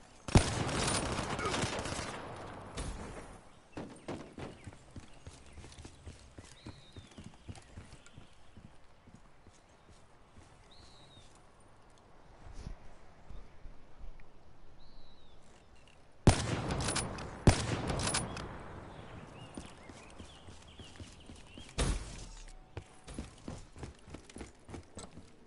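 Gunfire in the online shooter Black Ops 3 during a 1 vs 1 quickscope match, with bursts of rapid shots near the start and again around the two-thirds mark, separated by quieter stretches of game ambience and faint whistling tones.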